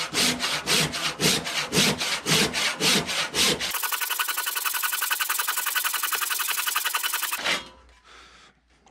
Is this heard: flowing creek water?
no